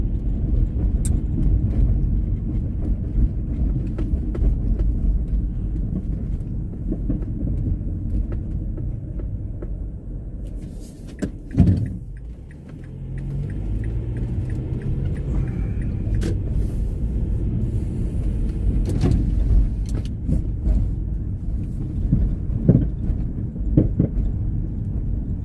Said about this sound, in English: Don't mind those noises. Those are just my car falling apart.